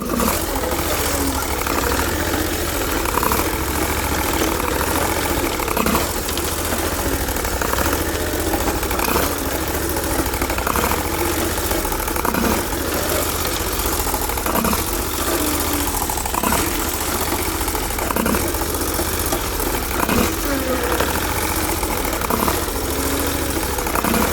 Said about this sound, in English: I see a little bit of backfiring starting to happen now.